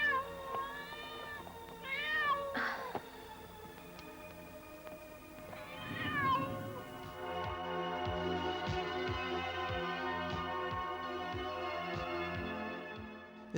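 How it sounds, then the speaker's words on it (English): A cat meows several times in a film soundtrack, with rising and falling cries near the start and middle, followed by a steady tonal background with rhythmic clip-clop-like beats. "And then a cat."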